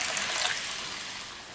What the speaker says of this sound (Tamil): அது கூட 1 கப் போல் தண்ணி சேர்த்துடலாம்.